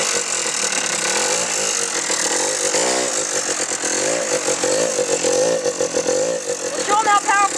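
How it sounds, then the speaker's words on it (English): A koplin vehicle with a faulty gear runs loudly up close, its engine whining and grinding with rising and falling pitch sweeps while a person talks over it. "Hear that gear? That's not good."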